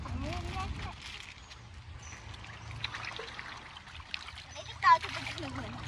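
Water pours out in a steady splashing stream, with people talking nearby over the running water.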